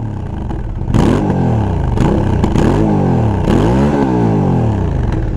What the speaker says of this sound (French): tu sens le gros moteur italien